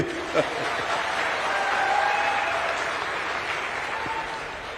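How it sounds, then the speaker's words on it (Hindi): Audience at an Agniveer youth dialogue event in Dehradun claps steadily for several seconds, a moderate, diffuse applause heard from within the hall. "अरे अब इसमें भी तो ताली बजाओ भाई।"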